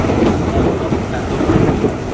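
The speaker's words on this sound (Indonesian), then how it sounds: "sedangkan hujan sudah turun" Heavy rain pouring down outdoors with rolling thunder, a loud, dense and constant roar of downpour with deep rumbles underneath, no voices heard.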